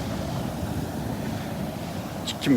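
Surf washes onto the shore at Delnor-Wiggins beach in Florida, a loud, steady rush with wind noise, a brief higher sound near the end.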